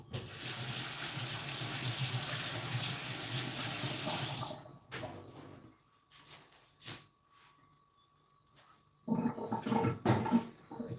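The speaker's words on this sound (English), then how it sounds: "So let me do like this and wash my hands." Hands are washed under a running kitchen tap while baking bread: a steady gush of water for several seconds, then a quieter pause with small handling clicks, then a shorter burst of running water close by.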